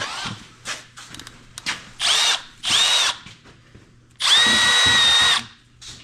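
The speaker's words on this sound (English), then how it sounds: "Let's drill it." Three short bursts of a power drill boring a hole into a fuel tank, the last burst longest, loud and close, with quiet shuffling between them.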